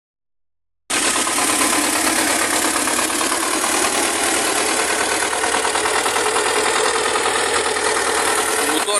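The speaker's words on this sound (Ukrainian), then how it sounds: "Моторчик, бачите, тут шепче, моторчик, коробка, їде як машина." A T-25 tractor engine idles close by, a steady, loud mechanical drone with a fast, even knocking rhythm running alone for the whole stretch after a brief silence at the start.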